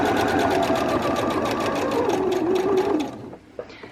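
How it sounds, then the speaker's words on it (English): A sewing machine runs a long basting stitch straight along fabric, a steady rapid mechanical whirr of needle strokes lasting about three seconds before stopping, followed by a few faint clicks. "And then we are going to sew straight to the end."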